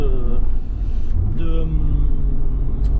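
A car driving on the road, with steady low engine and road rumble throughout and a brief rise in pitch partway through, close and continuous.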